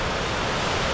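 Sea waves wash along Panglaw Beach in Hernani, Samar, a steady broadband rush of surf over a brief moment, fairly close and with no voices.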